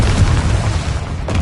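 A Confringo spell detonates in Hogwarts Legacy, producing a loud, deep boom with a rumbling blast that fills the whole short moment and fades slightly at the end.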